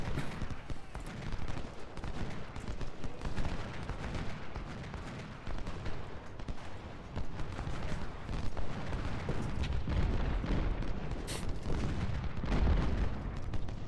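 Cannon artillery fire in Ultimate General: Civil War, a dense, continuous rumble of distant booming shots and rolling gunfire blending into a heavy battle din.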